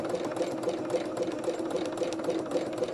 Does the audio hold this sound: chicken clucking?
no